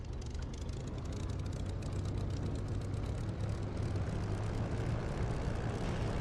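Propeller aircraft engine in a flight simulator game (DCS or War Thunder) running steadily as the throttle is eased up on the ground, a constant loud low drone with no talk.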